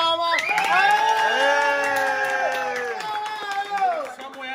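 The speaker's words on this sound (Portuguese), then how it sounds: "Uma salva de palmas!" A festive crowd at a party celebration cheers and shouts over clapping, with bright whooping voices and children yelling loudly throughout, close and energetic.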